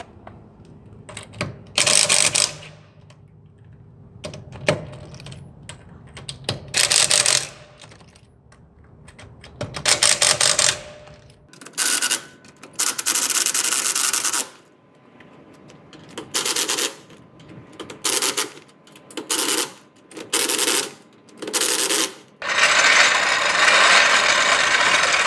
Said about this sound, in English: just going to loosen up the lug nuts